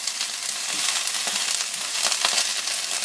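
Mushrooms and chopped vegetables stir-frying in hot oil give a steady, dense sizzle with scattered crackles and pops, fairly loud and unbroken, with no voices.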